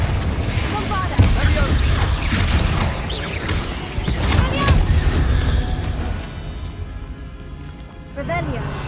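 Spell explosions go off in a fantasy video game as repeated heavy booms and blasts in dense, layered bursts. Game voices are heard over them, and the din thins toward the end.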